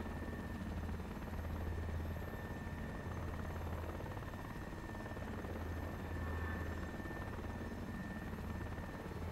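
A helicopter climbs gently over the mountains of Corsica, its rotor beat and turbine whine holding a steady, even drone close by throughout, with no talk.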